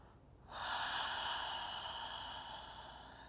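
Steady breathing through the nose during a seated yoga stretch, a soft airy rush that swells in after a brief pause and holds close and fairly even before easing slightly toward the end.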